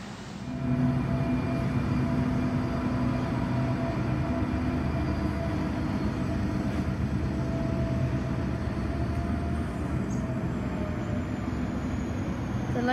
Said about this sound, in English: The loco is 8203.